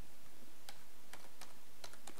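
A few quick, light keystrokes on a computer keyboard while a file name is typed into a code editor, sparse and irregular clicks over a quiet background with no talking.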